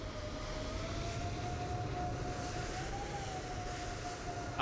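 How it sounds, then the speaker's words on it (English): Nearby airliner engine in a flight simulator game, a steady droning roar with a faint sustained whine running throughout, moderately quiet and unbroken, with no talking. "another plane's nearby."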